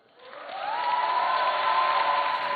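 Thunderous applause fills Lebanon's parliament after the presidential election ends over two years of political deadlock, a dense crowd clapping that rises quickly and holds steady, loud and sustained.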